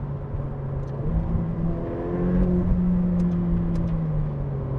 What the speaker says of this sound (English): You hear the turbochargers? They're really pushing in. They're really forcing this to fly.